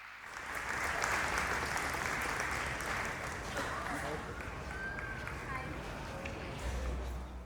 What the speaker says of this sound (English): A huge round of applause for our respected principal Devanshi ma'am